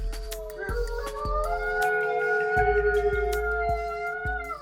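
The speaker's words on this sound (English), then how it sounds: "It was when the wolves started howling." Several wolves howl together at night, their long sustained wavering tones rising and overlapping. Regular faint ticks sound underneath.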